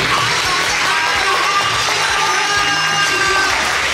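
A crowd at a Japanese stage event claps loudly and steadily to welcome two guests, with some cheering and voices mixed into the dense, close applause.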